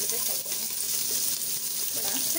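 Onions and green chillies frying in a pan, giving a steady, moderately loud sizzle with a watery, crackling hiss throughout and no clear pauses.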